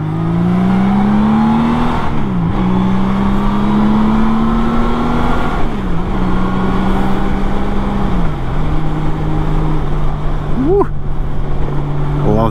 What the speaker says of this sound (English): I love the sound of that flat six.